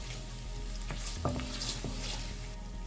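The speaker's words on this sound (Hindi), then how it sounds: "इसे हम थोड़ा फ्राई करेंगे।" Chopped garlic cloves frying in oil in a pan, a steady close sizzle with a few soft clinks and stirring knocks through the middle, no voices.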